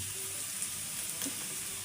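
Onions and chilies frying in a pan give a steady, close sizzle with faint crackles, a brief stir near the end, and no talking.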